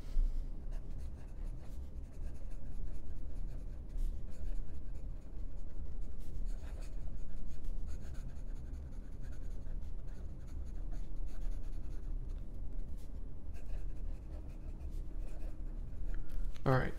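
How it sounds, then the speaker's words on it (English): A Platinum 3776 fountain pen with a custom BB italic nib, filled with brown cartridge ink, scratches quickly across paper in steady continuous strokes, close up and fairly loud. "All right, fast writing."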